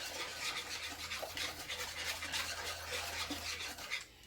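Peach cobbler filling stirred in a pot on the heat, a steady scraping and swishing of the spoon that runs continuously at close range with a low hum underneath.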